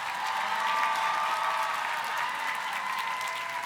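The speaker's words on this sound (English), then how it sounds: "Let's give a round of applause for all of our Masters in Journalism graduates." Audience applause for Masters in Journalism graduates at a graduation ceremony, a steady, even wash of many clapping hands at moderate level throughout.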